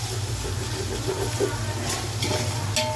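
Onions and tomato with salt sautéing in a pan for biryani, a low continuous sizzle and bubbling hiss with occasional soft stirring scrapes, close and even throughout, without talk.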